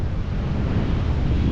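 Strong wind buffets the microphone over continuous surf at Legian Double Six beach in Bali at low tide after a day of rain, a dense, steady roar with no talking.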